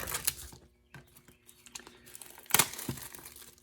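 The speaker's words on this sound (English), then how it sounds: "Now there is actually heat shrink or heat wrap around this thing. So let's go and cut it open." Heat shrink wrap on an earbuds box being cut open, close, crisp crinkling and tearing plastic in short bursts with brief pauses between.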